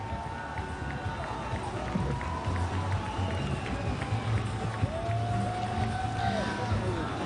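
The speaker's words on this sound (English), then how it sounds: "again, applause from the local crowd here in Kazan" Crowd at a FINA High Diving World Cup event in Kazan applauds and cheers steadily from a distance, a broad wash of clapping and hubbub running under a commentator's voice.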